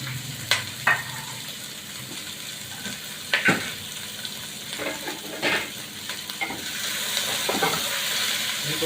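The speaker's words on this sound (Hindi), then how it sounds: "इनको फ्राई करना है" Mushrooms and mixed vegetables fry in a pan with a close, steady sizzle, punctuated by several sharp clacks and scrapes of stirring that grow a little busier toward the end; no voices.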